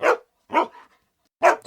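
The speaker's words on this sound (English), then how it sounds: "Sludge barked." A dog barks three times, close and clear, with short sharp barks separated by silent gaps, the last two coming in quick succession.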